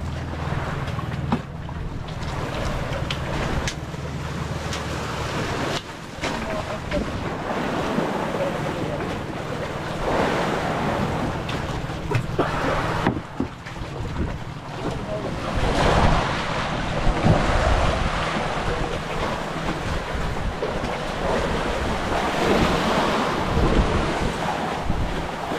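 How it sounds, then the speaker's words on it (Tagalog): Rough, choppy sea around a boat offshore, a constant heavy wash of waves and wind buffeting the microphone, with the hull rocking and splashing throughout and occasional faint voices under the noise. "Masyadong magalaw ngayon kasi maalon."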